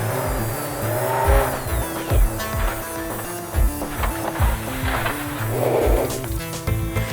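A rally car at a night winter rally loses grip on snow and slides into a snowbank. The engine roars loud and close, with revving surges, tire noise and a rough scraping rush near the end. No one speaks.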